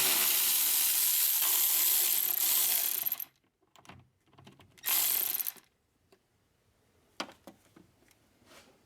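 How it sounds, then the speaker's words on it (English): A ratchet loosens the bolts holding a car's radiator cooling fan in the engine bay: a loud burst of rapid clicking for about three seconds, then shorter bursts and scattered clicks with quiet gaps, close up and with no talking. "So we're gonna remove these 3 bolts"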